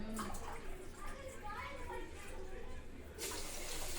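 Water poured steadily from a glass into a cooking pot, a continuous close pouring that ends with a brighter gush near the end, with a voice faintly in the background.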